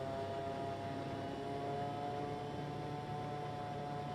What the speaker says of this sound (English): There's an awful lot of power to get this plane moving in amphibian mode.